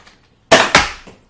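A Nerf Rival Kronos XVIII-500 blaster is fired upward, giving one sharp, loud pop with a second burst right after it, each fading quickly, with no talking.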